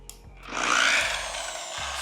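A rotary polisher spins up on car paint with a rising broadband whir and a rubbing hiss that swells then holds steady, close and loud, with no talking.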